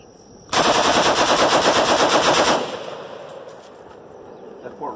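A machine gun fires one loud, continuous burst of rapid shots for about two seconds at close range outdoors, then stops and leaves a ringing echo and quiet background.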